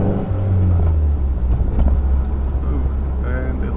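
A 2.4-litre turbocharged car engine drones low and steady from inside the cabin, building under boost, while a voice talks over it for most of the stretch.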